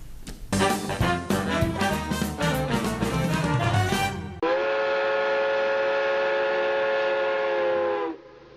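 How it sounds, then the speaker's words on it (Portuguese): A train steam whistle shrieks, first in a run of quick choppy blasts and then in one long sustained tone that cuts off sharply near the end, loud and close with nothing else heard. "Lá vai o trem, furando montanhas"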